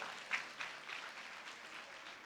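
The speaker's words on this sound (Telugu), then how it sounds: "గట్టిగా చప్పట్లు కొట్టండి." Audience applause at a youth seminar, a faint, distant patter of clapping spread through a hall, steady and soft.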